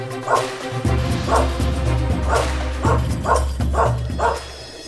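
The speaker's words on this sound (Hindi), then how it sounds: "दिलावर पे भौंकेगा तो मरेगा।" A dog barks repeatedly in a quick, steady series of sharp yaps, loud and close, under a tense dramatic music bed in an Indian TV drama scene.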